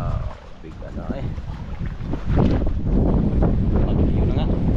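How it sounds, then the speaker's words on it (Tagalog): Strong wind buffets the microphone outdoors near water in a heavy, rumbling roar that grows louder partway through, with a voice talking underneath. "Lakas pa ng hangin mga idol."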